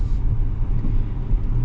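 Steady low engine and road rumble inside a moving 2025 Acura MDX with a V6, a smooth, even drone with no talking.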